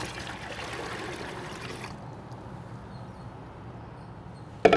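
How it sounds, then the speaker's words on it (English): Water pours into thick brine concentrate at five parts water to one, making a soft, steady trickle for about two seconds. A quieter splash follows, and a sharp knock comes near the end. "we're gonna actually add about 5 parts water to 1 part of the brine concentrate"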